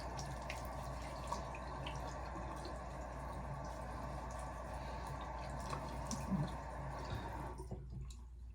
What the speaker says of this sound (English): Let's do a little cold water rinse here.